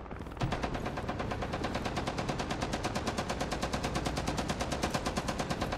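Rapid, sustained automatic gunfire from a mounted turret in the tactical shooter Rainbow Six Siege, an unbroken rattle of evenly spaced shots running loud and close for several seconds after a brief quieter lead-in.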